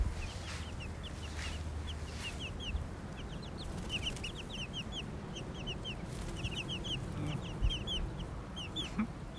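Backyard chickens kept in a shed cluck repeatedly in short, scattered calls, moderately close, over a steady low background hum.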